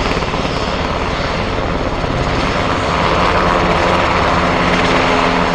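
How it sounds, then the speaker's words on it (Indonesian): A combat helicopter in the Metal Slug video game drones with a loud, steady rotor-and-engine roar, dense and continuous from start to finish with no voices. "Ini helikopter tempur."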